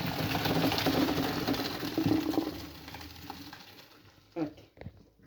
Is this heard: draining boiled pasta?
yes